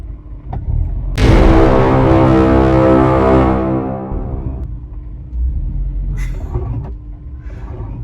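A loud grinding rumble from a car's driveline or axle swells up once in drive and holds for a few seconds with a rubbing, droning tone, then fades to low vehicle noise and faint knocks.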